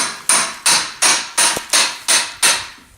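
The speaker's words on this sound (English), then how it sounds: "He split that, hammering that rounded edge right there." Seven evenly spaced hammer blows strike a rounded edge, each a sharp, close, ringing crack that fades before the next, with no voices.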